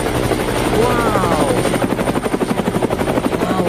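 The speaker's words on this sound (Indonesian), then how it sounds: "Wow, helikopter weh. Oke, helikopter." A helicopter's rotor thumps in a fast, steady chop close by, with a whining engine and a voice speaking over it.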